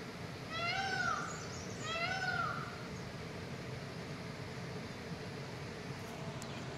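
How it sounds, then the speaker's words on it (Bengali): A peacock calls twice from the forest beside a stony riverbank in Sikkim, two loud, nasal, cat-like wails in quick succession over a steady rush of background noise. "ম্যাও ম্যাও করে চেঁচালো একটা ময়ূর"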